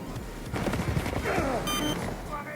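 Rapid AUG-A3 assault rifle fire in the Battlefield 4 video game: a dense, continuous burst of shots that starts after a brief lead-in and keeps rattling steadily at close range for about two seconds.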